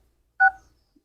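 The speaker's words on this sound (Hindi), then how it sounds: "यहाँ पर आपने सबसे पहले डायल करना है" A mobile phone keypad sounds a single short DTMF dialing tone, a clean two-pitch beep, alone in a quiet room while a code is dialed for a Jazz SIM.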